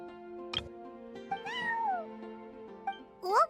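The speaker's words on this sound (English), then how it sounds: "I'm sorry, that's my neighbor's cat." Cat meowing in Genshin Impact, a couple of drawn-out, rising-and-falling meows over soft background music, the last one louder and closer at the end.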